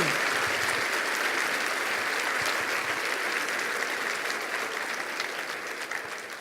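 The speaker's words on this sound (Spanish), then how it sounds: "¿Cuánto le da un aplauso al Señor?" A congregation at a church service applauds with a full, sustained wash of clapping from many people. It stays loud and steady before easing slightly toward the end, with no speech over it.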